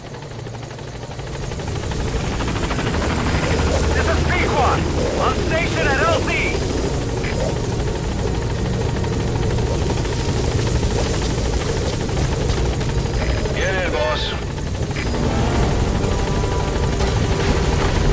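The Pequod helicopter from Metal Gear Solid V descends to a landing zone, its rotor and engine roaring loud and steady throughout, with a radio voice speaking over the noise.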